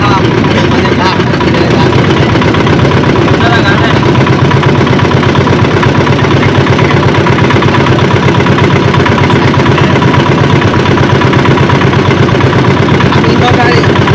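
A loud, unbroken drone comes from a nearby boat engine running steadily, its low rumble and vibration holding even throughout.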